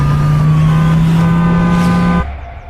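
A police car's engine runs steadily and loud as the vehicle turns, then cuts off abruptly near the end, leaving a quieter background.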